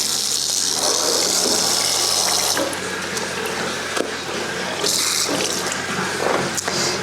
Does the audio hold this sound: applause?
no